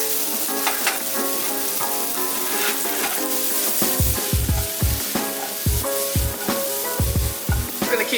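Jalapenos, red peppers and mushrooms sauté in a hot pan with a steady sizzle, while the spatula scrapes and thumps against the pan in quick repeated strokes through the second half.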